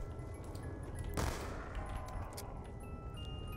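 A B23R pistol fires in Black Ops 2 Zombies on the Nuketown map. A single sharp crack stands out over steady game noise, and a few fainter pops and effects follow.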